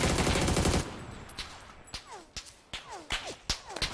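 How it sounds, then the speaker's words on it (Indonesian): Gunfire in a vehicle-based multiplayer shooter, a dense loud burst at first, then scattered single cracks and whizzing shots at varying distances, no talk. "Siapa tuh nembak?"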